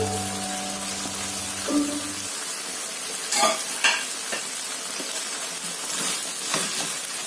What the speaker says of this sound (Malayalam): നമുക്കിനി ഇതിലേക്ക് ഗ്രേറ്റ് ചെയ്ത് വെച്ചിരിക്കുന്ന തേങ്ങ അത് ആഡ് ചെയ്ത് കൊടുക്കാം